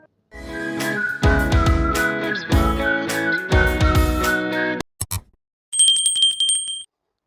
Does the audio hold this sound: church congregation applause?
no